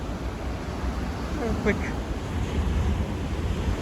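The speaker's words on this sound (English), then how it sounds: "Look at these waves." Ocean waves wash along the coast at Ramsgate in KZN, a steady broadband surf rush mixed with wind buffeting the microphone, with a brief voice in the middle.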